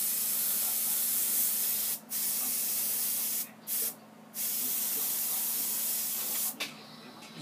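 An airbrush sprays paint across the background of a comic cover, giving a steady close hiss that cuts off briefly several times between bursts.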